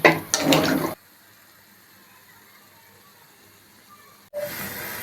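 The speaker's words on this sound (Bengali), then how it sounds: "যে যতটুকু ঝোল খাবে ঠিক সেই পরিমাণে জল ঢেলে দেবে।" Water is poured into a pot of simmering curry in a short, loud splashing rush lasting about a second. Near silence follows, then a faint burst of kitchen noise returns.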